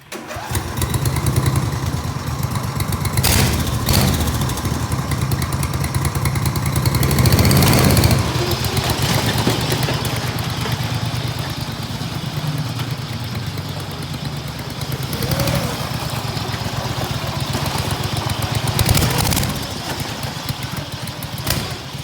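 A 40 MPH race lawn mower with welded headers drives past, its engine loud and raspy throughout, revving up and down in steady surges with no talking.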